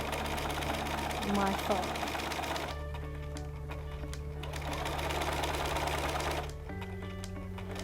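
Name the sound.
sewing machine stitching bias binding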